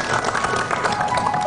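A crowd applauding loudly and steadily, many hands clapping together in a dense, continuous burst.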